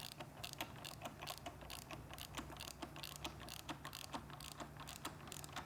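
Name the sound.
17mm socket ratchet tightening clamp nut on Triumph Street Twin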